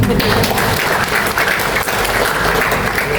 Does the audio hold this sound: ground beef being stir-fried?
no